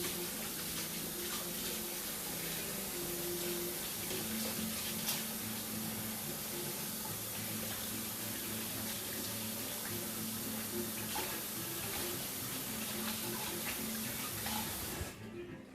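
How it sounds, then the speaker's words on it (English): Tap water runs steadily for about fifteen seconds while hands are rinsed under it, a close broadband splash with a low hum behind, then the flow cuts off at the end. "Give my hands a little rinse."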